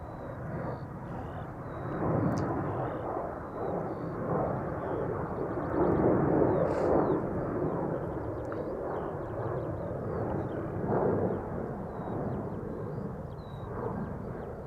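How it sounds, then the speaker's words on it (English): A KLM Boeing 737-800 departs from Schiphol's center runway, giving a broad, steady jet engine roar that swells a little in the middle and keeps a sustained, distant rumble throughout. "Another departure from the center runway. This is the Red Wine Express to Bordeaux. KLM flight 1441,"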